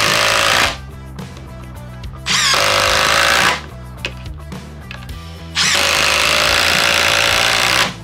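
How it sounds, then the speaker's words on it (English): A Milwaukee M12 Fuel impact driver drives deck screws in three long, loud, close bursts of hammering rattle, with short quieter pauses between them. "first we're going to be testing the M12 fuel impact driver. So first off, we're just going to drive just some simple deck screws"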